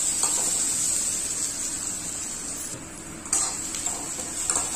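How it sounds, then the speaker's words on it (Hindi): Peanuts fry lightly in hot oil in a pan, giving a steady bright sizzle with a few soft clinks of a spoon against the vessel. "अब हमारा इसी तेल में हम फल्ली को थोड़ा सा हल्का सा तल लेंगे।"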